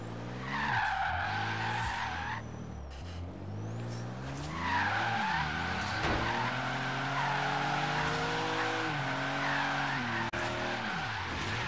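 A Mazda MX-5 drifts with its tires squealing in long, loud stretches over the revving engine as the pitch rises and falls, broken by brief gaps where the skid lets up.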